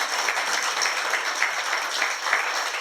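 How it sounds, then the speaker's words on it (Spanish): Steady applause from a crowd, a dense wash of clapping that holds evenly for a few seconds. "Denle un fuerte aplauso al Señor"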